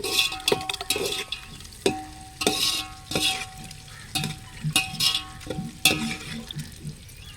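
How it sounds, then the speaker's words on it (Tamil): Onions sautéing in a pan for chicken biryani, stirred by hand: close, loud bursts of sizzle and scraping against the pan come in an uneven rhythm, with short clinks of a utensil between them and no talking. "வெங்காயம் வதங்கிடுச்சு."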